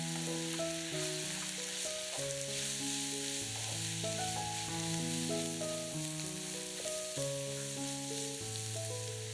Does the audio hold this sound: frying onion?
yes